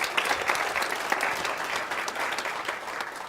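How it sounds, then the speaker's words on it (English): Steady, dense applause from a stage hypnosis audience fills the room for a volunteer, continuous and fairly loud with no break. "Give him a round of applause."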